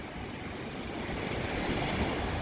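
Steady wash of sea waves with a broad rushing roar, mixed with some wind buffeting, no voices, on the coast at Side, Turkey, in November.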